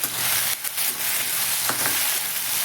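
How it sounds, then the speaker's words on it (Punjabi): Onions and tomatoes sizzling loudly in hot oil for a bitter gourd peel curry, a dense continuous crackle close up with a few brief stirring scrapes and no talking. "ਤੇਲ ਗਰਮ ਹੋ ਚੁੱਕਿਆ ਹੈ ਆਪਣਾ ਹੁਣ ਆਪਾਂ ਪਿਆਜ਼ ਟਮਾਟਰ ਪਾਵਾਂਗੇ ਆਪਾਂ ਇਹਨਾਂ ਨੂੰ ਭੁੰਨਾਂਗੇ"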